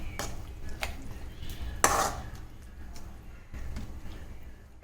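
Boiled mutton being stirred in a pan for mutton fry, with scraping and clinking of a spoon against the metal pan and one sharper clatter midway, fairly close and moderate in volume.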